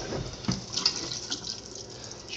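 Water from a kitchen faucet sprayer with weak pressure hisses and splashes into a sink in short bursts, close and moderately loud, with no talking.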